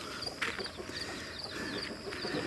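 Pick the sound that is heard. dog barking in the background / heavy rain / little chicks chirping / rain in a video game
little chicks chirping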